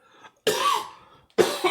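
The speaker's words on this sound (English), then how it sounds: "I'm going to cough." Two short, harsh coughs close to the microphone, the first longer, separated by a brief silence, with a faint breath just before them.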